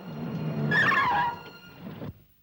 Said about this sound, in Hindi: अरे गाड़ी क्यों रोक दी?